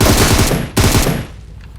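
Rapid automatic gunfire rattles in a video game in two short bursts, loud and close, with a brief break between them, then fades into quieter noise.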